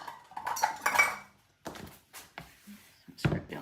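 A utensil scrapes and clinks against the sides of a mixing bowl during cookie-dough making, with a few scraping passes and knocks separated by short quiet gaps, close and fairly soft.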